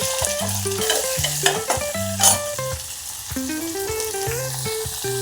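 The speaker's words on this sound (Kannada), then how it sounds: "ಎಣ್ಣೆಯಾಗ ಪಳ ಪಳ ಪಳ ಅನ್ಬೇಕು" Beans and cauliflower fry in hot oil while being stirred, a steady bright sizzle with scraping stir strokes, and music plays alongside.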